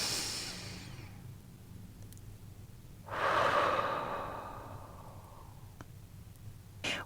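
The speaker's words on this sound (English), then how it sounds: "I invite you to take a breath with me." One slow, deep breath taken close to the microphone during a meditation, rising and then fading over a couple of seconds against a quiet room, with a faint tap near the end.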